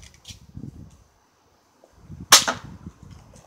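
A single sharp BB gun shot cracks out close by, a sudden bright burst that fades quickly, with low rustling and handling noise before and after.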